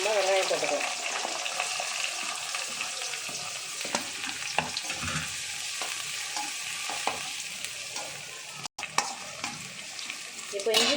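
Onions sizzle in a hot pan of oil with cinnamon, bay leaf and fennel seeds for pepper chicken. A steady bright frying hiss continues throughout, broken by occasional stirring scrapes.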